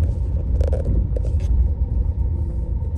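Cars passing on a road in rainy Gelendzhik, a continuous low rumble of traffic with a couple of brief hissing tire swishes, close and fairly loud.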